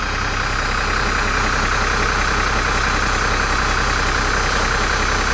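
A Class A commercial truck's diesel engine idles after starting, a loud, steady close-range rumble with a constant even throb and no talk.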